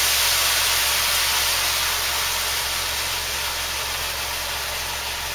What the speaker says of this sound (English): Deglaze with the champagne.